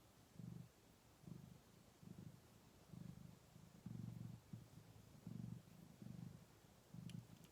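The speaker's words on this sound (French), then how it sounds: "je ne sais pas si vous l'entendez, mais il ronronne. Il ronronne dès qu'on le touche, ce chat." A cat purrs steadily while being stroked, a soft low rumble pulsing in regular breaths, close and quiet with no talking over it.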